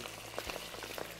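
Lobster pieces laid into hot oil in a pan give a faint, steady crackling sizzle with scattered small pops.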